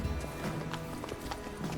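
A horse's hooves clip-clop in the video game Witcher 3, quick and fairly faint, with a brief low voice underneath.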